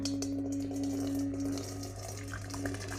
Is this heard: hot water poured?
yes